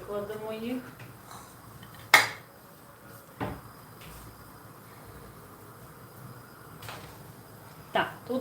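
Clinking dishes and a sharp ceramic knock as a plate is pulled from a stack, with a few softer clatters afterward in a quiet room.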